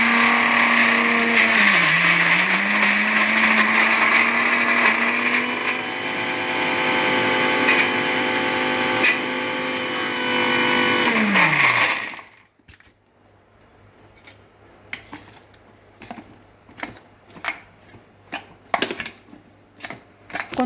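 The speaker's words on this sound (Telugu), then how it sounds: "మనం మధ్య మధ్యలో కలుపుకుంటా మళ్ళీ మిక్సీ చేసుకోవాలి." A mixer grinder blends ponaganti leaf chutney with tamarind water, a loud steady whirring motor for about twelve seconds that dips briefly in pitch, then cuts off, leaving scattered knocks and clatter.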